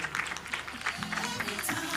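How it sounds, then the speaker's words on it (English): A crowd applauds at a Kenya Utalii College strategic plan launch event, with steady, dense clapping that fills the room for the full two seconds. "Come on, let's give a round of applause."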